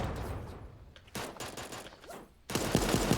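A firing squad shoots in Super Animal Royale, letting off several rapid bursts of gunfire separated by short pauses, with the volleys loud and close.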